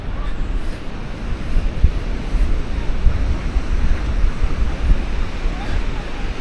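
Ocean surf rolling onto Praia Brava beach in Florianópolis, where surfers wait for waves, as a steady, dense wash of breaking water with gusty wind noise that runs throughout, loud and close.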